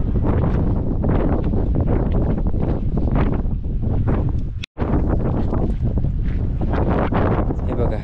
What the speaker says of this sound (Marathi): हवा तर एवढी सुटली ना, आवाज असं माहीत नाही कसं